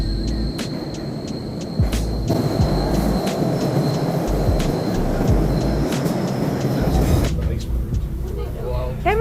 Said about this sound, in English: Time to hop a train out of town.